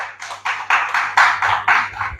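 An audience at a fasting prayer service claps together in a steady rhythm of about ten loud, close beats, evenly spaced and without voices.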